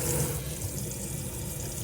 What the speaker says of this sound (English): water coming through the tap.